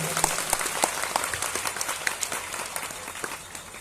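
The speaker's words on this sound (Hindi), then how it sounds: "अगर बात अच्छी लगी हो तो एक तालियां मेरे बाबा के लिए बजाएं।" Audience applause at a Khatu Shyam religious katha during Ganesh Chaturthi, a steady wash of many hands clapping that holds for several seconds at moderate loudness, with no voices over it.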